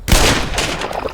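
A gunshot in the video game Black Mesa, a single loud, close blast with a sharp attack and a brief rumbling tail.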